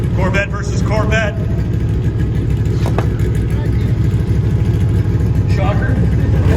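Corvette race cars accelerating on an autocross course, a loud, steady mid-range engine roar throughout, with an announcer's voice over it.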